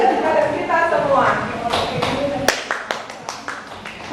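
An audience at a school gathering claps scattered and sharp, following voices talking over a room murmur, with the claps tapering off into a few separate slaps.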